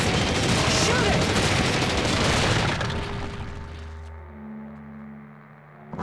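Rapid gunfire from the two-player arcade shooter Haunted Museum 2 (Frightfearland) rattles in a loud, dense burst for about three seconds, then thins into scattered shots and booms with ringing game music and effects underneath.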